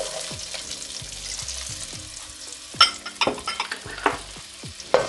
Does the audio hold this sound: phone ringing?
no